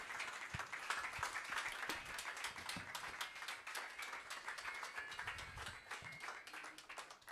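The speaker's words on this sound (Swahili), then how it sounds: "tumpigie mtumishi wa Mungu makofi anapoingia kwenye madhabahu kutuhudumia" A church congregation claps together as a preacher steps up to the altar at a breakthrough service, a steady, dense wash of many hands filling the room at moderate volume without a break.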